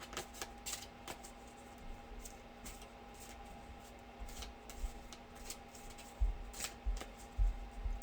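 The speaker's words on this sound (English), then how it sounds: "I can give it a little shuffle here" Tarot cards are shuffled close by in quick, soft riffling bursts that repeat throughout, over a faint steady background hum, with no talking.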